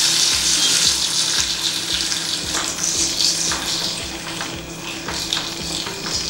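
Tempering tipped into a boiling bitter gourd tamarind curry (kakarakaya pulusu) gives a loud, steady sizzling hiss with crackling spatters that runs the whole stretch, close up and without talk.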